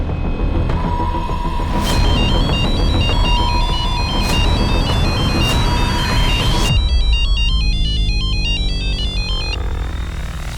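A telephone rings with a repeating electronic ringtone, loud and continuous across the whole stretch, with the pattern changing partway through and a steady background hum underneath.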